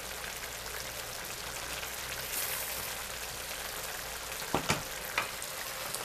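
Rice in a galinhada pot with pequi and freshly added green herbs, gently stirred: a steady soft simmering hiss throughout, with a few sharp spoon scrapes against the pot near the end.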